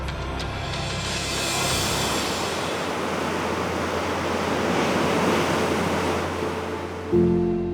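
Rough ocean waves and strong wind roar continuously around the expedition ship Ocean Diamond crossing the Drake Passage toward Antarctica, a loud broadband wash of surf and gusting wind noise with no voices, ending in a brief thump.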